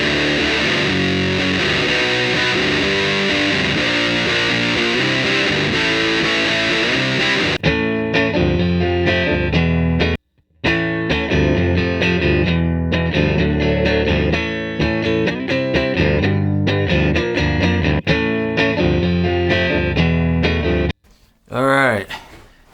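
Heavy, saturated Big Muff fuzz guitar playing loud chugging chords, with a couple of brief dropouts and a short burst of noise at the end.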